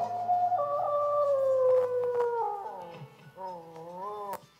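A sustained, wavering howl like a wolf's sound effect, loud and up close, its pitch sliding and bending over several seconds before cutting off abruptly.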